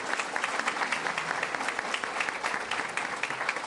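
An audience at an Illinois public affairs session breaks into steady, sustained applause, a dense wash of clapping hands that fills the whole moment with no voices standing out.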